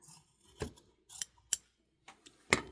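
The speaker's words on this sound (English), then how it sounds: "I'm going to grab some scissors and I'm going to cut it off right about there" Scissors snipping through a thick fabric scrap for a placemat, four or five crisp separate cuts with short pauses between, close and quiet, with no talking.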